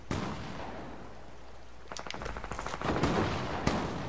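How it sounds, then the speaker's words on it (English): Fortnite gunfire, a rapid burst of automatic shots midway followed by scattered louder shots over busy game noise, no voices. "Oh, he's shooting at me."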